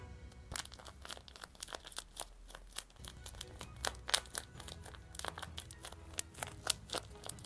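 Crisp paper crinkling and crunching as a handmade paper squishy is wrapped in packaging, with irregular close rustles and small crackles, fairly quiet and without speech.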